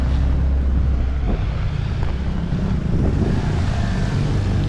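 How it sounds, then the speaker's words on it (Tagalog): Strong wind buffets the microphone in a steady, loud rumble on the Marikina Bridge during Typhoon Enteng, with faint background noise beneath and no voices. "Malakas ang hangin dito sa taas."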